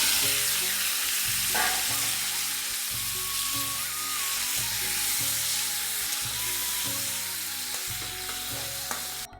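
Potatoes fry in oil in a kadai with a loud, steady, close sizzle that runs throughout. Occasional stirring scrapes sit under the sizzle, and no one speaks.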